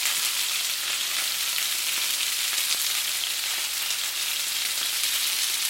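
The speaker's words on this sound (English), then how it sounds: "I think it's browning up pretty good right now, so just cook a little bit more" Chicken wings browning in hot oil in a pan make an even, unbroken hiss of frying, close and fairly loud, with no other sounds on top.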